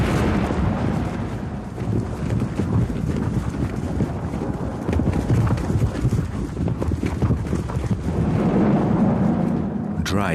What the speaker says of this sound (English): The horses are getting nervous.